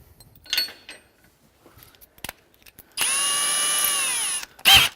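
A power drill with a 1/8 inch bit boring a pilot hole into a divot in metal, whining steadily and loud for about a second and a half after some quiet handling clicks, then a brief burst.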